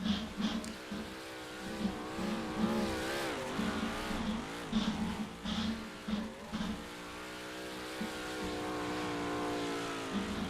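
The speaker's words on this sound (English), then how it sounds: "It looks like Travis Back is out on the track in that number 64 Hallmark car." The number 64 Hallmark race car runs laps on a dirt track at Charlotte, its engine wailing and rising and falling in pitch as it passes at a moderate distance, with the roar steady throughout.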